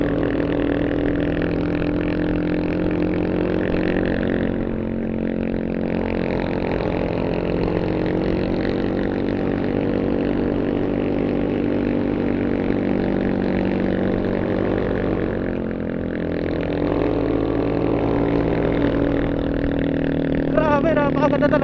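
A motorcycle labors up a steep, continuously climbing trail on Mount Banoy in Batangas City, its engine droning steadily and loudly close by for the whole stretch with only slight shifts in pitch; a rider talks over it.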